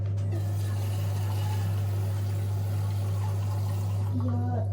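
Water runs steadily into a pot over a constant low electrical hum, a continuous pouring trickle at close range.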